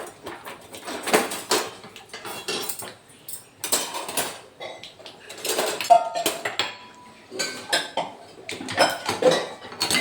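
Tempering is poured over khandvi with a pan and spoon clinking, making bursts of metallic clatter and scraping that come close and loud in irregular clusters, with short quiet gaps between them.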